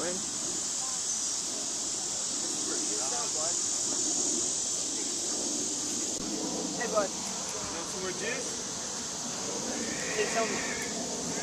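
A horse neighs and whinnies several times while being ridden outdoors, the calls fairly close and set against steady background hiss, with voices talking and chatting throughout.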